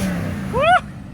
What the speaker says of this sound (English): Henry, give it a rev.